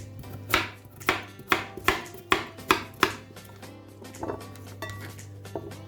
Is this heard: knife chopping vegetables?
yes